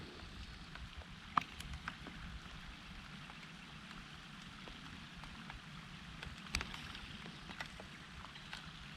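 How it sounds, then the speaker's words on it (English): Rain falling outdoors on a ride out in the country, a steady soft patter with scattered sharper drops, fairly faint and continuous with no talking. "even the sound of the rain's nice and soothing out here"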